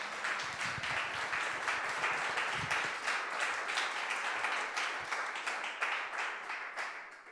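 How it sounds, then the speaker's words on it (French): Applause from the audience for the authors at a hybrid public talk, a steady wash of many hands clapping at moderate level, with no speech over it. "Vous pouvez les applaudir."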